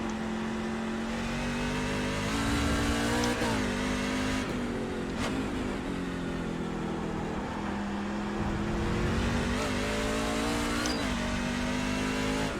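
A NASCAR Class C race car in the iRacing simulator drives a hilly road course, its engine droning loud and close, rising and dropping in pitch through shifts and revs with no talking over it.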